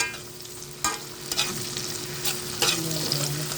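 Chopped tomato tossed into a pan of frying onion and garlic, giving a steady close sizzle with a few scraping stirs and spatula knocks.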